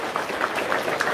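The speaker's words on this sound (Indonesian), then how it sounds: "Sip, tepuk tangan dong." Brief burst of audience clapping at an Indonesian talk or sermon, a dense patter of hands at moderate distance lasting about a second.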